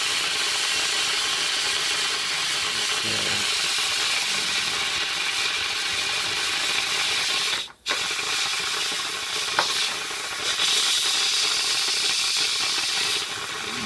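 Steam hisses steadily from an 8 Qt Philippe Richard pressure cooker as pressure is released, a loud, continuous broadband rush that briefly cuts out near the middle before resuming at the same strength.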